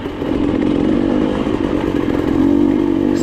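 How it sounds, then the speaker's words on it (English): An off-road motorcycle's engine revs hard and steadily on a difficult trail in second gear, a loud, continuous drone with clattering mechanical noise, rising slightly near the end. "Bike just spins up instantly."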